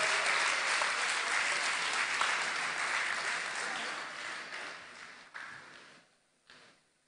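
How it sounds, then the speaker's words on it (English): Applause and cheering from Rotary Club of Palghar members at a conference, dense and loud at first, then thinning and tapering off toward the end with a brief final flurry. "please stand up and give them a loud cheer for their support"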